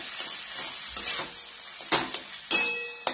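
A potato and pea mixture for aloo patties is stirred in a frying pan, with a steady close sizzle under repeated scraping strokes and a few sharper knocks of the spoon against the pan.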